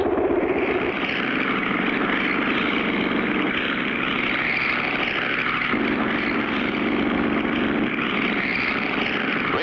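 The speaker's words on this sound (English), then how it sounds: "Hey, Foxy, that bobtail flying machine is catching up with us." A propeller airplane flies in a 1960 color cartoon, its engine giving a steady, loud droning hum that carries unbroken through the whole stretch with no voices.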